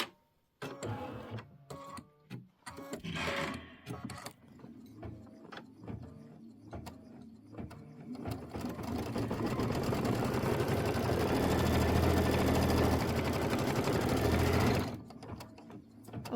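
A sewing machine stitching a mini quilt, short stop-start runs at first, then a long steady buzzing stretch of close mechanical stitching that cuts off near the end.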